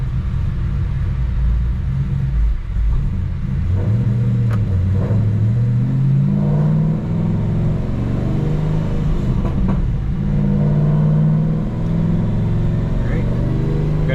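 A car engine drones steadily and loudly under load during a pull on a Dynocom chassis dyno, a continuous rumbling tone with shifting harmonics throughout.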